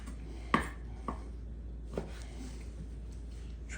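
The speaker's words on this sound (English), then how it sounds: "when we cut them, we're gonna wanna cut them into a bite-sized cube" A knife cuts smoked bacon into bite-sized cubes on a cutting board, giving a few sharp, separate chops spaced about a second apart, close and moderately loud, with no talking.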